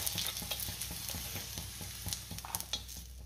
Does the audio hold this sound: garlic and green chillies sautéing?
yes